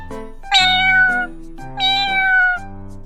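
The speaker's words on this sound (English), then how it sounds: "cat." A domestic cat gives two loud, clear meows, each drawn out for about a second with a rising then falling pitch, separated by a short pause and heard alone and close.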